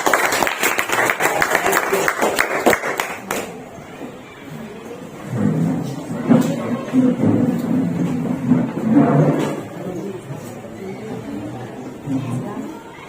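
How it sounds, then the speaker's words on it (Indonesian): Classroom applause for a presenting student group during a teacher training session, a burst of clapping in the opening seconds that fades into murmuring voices and room noise. "Kasih tepuk tangan dulu buat kelompok 2."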